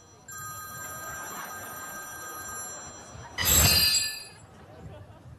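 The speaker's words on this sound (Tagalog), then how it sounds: "Divina, pakisagot nga yung telepono at napapagod na yung tenga ko kanina pa." A telephone bell rings with a steady electronic trill for a few seconds, followed by a louder burst of clattering and voices as the call is picked up, heard indoors and fairly close.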